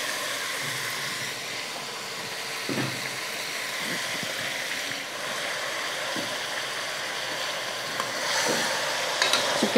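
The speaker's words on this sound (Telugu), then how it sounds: "చికెన్ తిప్పుకుంటున్నాను." Chicken pieces sizzle in a pan with onion and tomato for a country-chicken curry, a steady close fry with intermittent scraping and clattering stirs, and no talk.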